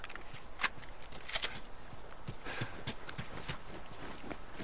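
Horse hooves clopping in The Last of Us, a steady run of close, distinct hoof strikes with scattered sharper impacts, heard alone without talk.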